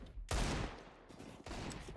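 Bursts of gunfire in a Counter-Strike match, a sharp loud volley followed by a second quieter burst about a second later, no talking.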